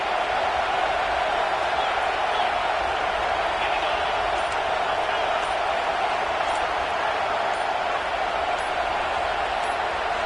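Stadium crowd in a football video game roaring steadily throughout on a fourth-and-eleven play, a dense, loud wash of noise with no break.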